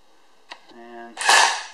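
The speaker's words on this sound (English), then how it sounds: "Just going to use electric impact." An electric impact wrench drives axle studs on a 2002 Ford Ranger rear axle, giving a short, loud burst of hammering after a brief tonal whine, preceded by a few clicks.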